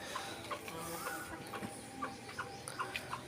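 White Night breed hens and young birds cluck in short, scattered calls around a poultry yard, fairly faint over a steady background hiss.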